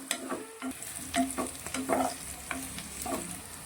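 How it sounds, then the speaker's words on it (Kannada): Bitter gourd frying in a pan with a steady, close sizzle while it is stirred, scraping and clinking strokes repeating over the hiss. "ಇವಾಗ ಇನ್ನು 1 ನಿಮಿಷ ಫ್ರೈ ಮಾಡ್ಕೊಳ್ಳೋಣ."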